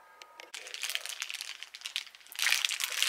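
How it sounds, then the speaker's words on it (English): A small plastic baggie of clips crinkles and rustles up close after a brief quiet start, the crackling growing louder toward the end, with no voices. "I found a baggie of them in here"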